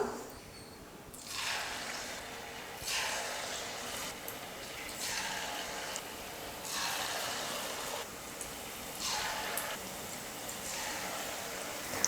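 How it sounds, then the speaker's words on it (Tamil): Rice flour bonda batter drops into hot oil in roughly even bursts every two seconds, each landing raising a loud hissing sizzle that partly settles before the next spoonful goes in. "எண்ணெய் நல்லா காஞ்சதுக்கப்புறமா கொஞ்சம் கொஞ்சமாக மாவு எடுத்து நம்ம எண்ணெயில் போட்டுக்கலாம்"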